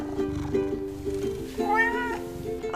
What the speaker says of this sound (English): I am joined by Gizmo, a local house cat